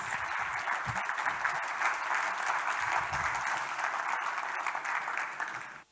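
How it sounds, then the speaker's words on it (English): Sustained audience applause at an opening ceremony, dense clapping from many hands that holds steady before fading out at the end. "Can we have some more applause for them?"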